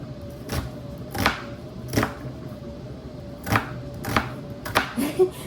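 A knife chops an onion finely on a cutting board, making about eight crisp, close knocks at an uneven, unhurried pace with a faint background hum.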